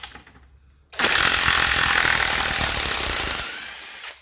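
An Ozito 18V three-speed 400 Nm cordless impact wrench drives an M12 bolt into wood in one loud, continuous burst of rapid hammering that lasts about two and a half seconds, then stops after a short quiet lead-in.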